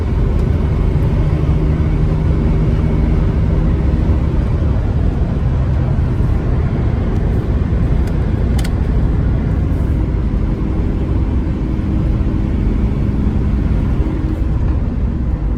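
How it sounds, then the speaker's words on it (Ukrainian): A Mercedes Sprinter W906 van with a swapped 3.2 OM613 diesel engine drives in fifth gear, a loud, steady low engine drone and road rumble from inside the cab throughout. "автомобіль повністю справний, досить добре їде, хороша тяга"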